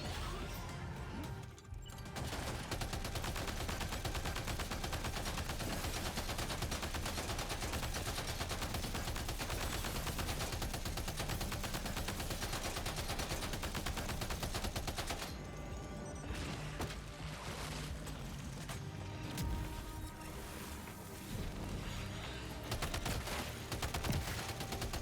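Sustained rapid gunfire in the video game Death Stranding 2, dense and continuous bursts filling the scene with brief lulls, crashing impacts mixed in throughout.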